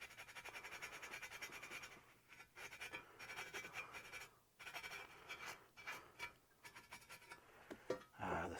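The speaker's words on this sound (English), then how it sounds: "The sound of scrubbing." Scrubbing a C5 Corvette racing oil pan by hand, a steady rasping, scratching back-and-forth rhythm, close and fairly quiet, with brief pauses between strokes.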